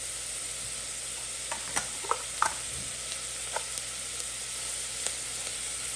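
Ingredients for a creamy white pasta sauté in a pan with a steady bright sizzle, broken by a few soft clicks and scrapes from stirring, with no talking.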